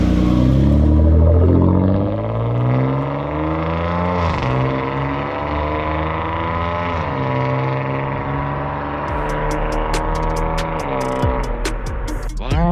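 A Hyundai Grandeur LPG with a full mid-to-end variable exhaust pulls away, its deep, booming exhaust note climbing in pitch through the gears, heard up close, with a few sharp ticks near the end.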